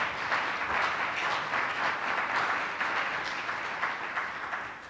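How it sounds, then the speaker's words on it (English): Applause from a room of attendees at an art and economic development panel event, a soft, fairly distant wash of steady clapping that holds throughout and tapers slightly at the end. "Can you all give all of them a round of applause,"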